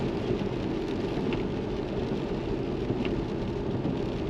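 Steady rain drums on the roof of a moving Tesla in a dense, continuous hiss, with a low rumble of the vehicle underneath and no talking.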